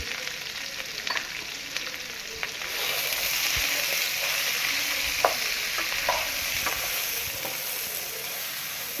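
Pork curry stir-frying in a pan with onion, green chilies, curry leaves and salt, a steady close sizzle with occasional stirring scrapes and clinks throughout.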